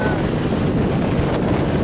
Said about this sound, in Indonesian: Oke, berhenti dulu karena tertiup angin.